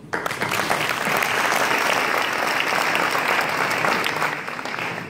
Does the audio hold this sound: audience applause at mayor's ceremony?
yes